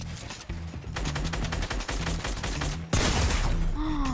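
Rapid gunfire in the video game Fortnite, sounding as dense, sustained bursts of close, loud shots that crack in quick succession with a sharper, heavier volley near the end.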